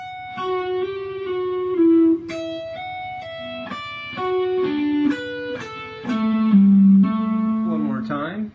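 Guitar playing a phrase of Pachelbel's Canon with pull-offs and hammer-ons, a steady run of clear single plucked notes with ringing harmonics, moving up and down the neck and ending on a brighter flurry, alone without talk.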